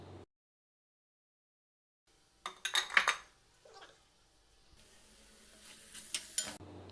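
A spoon stirs chili powder and tomatoes in a cooking pan. After a silent start there are intermittent close bursts of metallic scraping and clinking, then quieter rustling.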